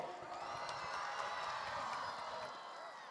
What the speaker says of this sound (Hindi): अगर अब शोर और तालियां एक साथ हों तो हाफिज साहब को पता तो चले कि कितने एनर्जेटिक बच्चे यहां मौजूद हैं।